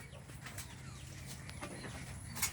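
Pigeons in a home loft give faint, scattered coos and short calls over a quiet, low background hum, with one brighter call near the end.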